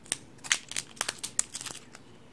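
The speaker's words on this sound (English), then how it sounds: "Let me open the washi tape." Washi tape packaging is opened by hand, producing a quick series of quiet, sharp plastic crinkles and rustles, close to the microphone with no talking.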